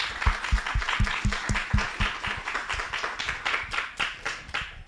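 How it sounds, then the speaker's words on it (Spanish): An audience at a seminar applauds a speaker, lively clapping in the room with several sharp, close individual claps standing out early before the applause settles into a steadier patter. "le damos otro aplauso."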